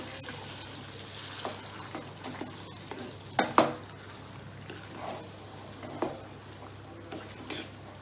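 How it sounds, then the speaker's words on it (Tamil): Ven pongal is stirred in a pot with ghee, pepper and cumin, giving a soft scraping and gentle sizzle with a few sharper spoon knocks, close by and fairly quiet. "சும்மா சேர்ந்த மாதிரி அந்த நெய், மிளகு, ஜீரகம் எல்லாம் வந்து இதில் கலக்கணும்."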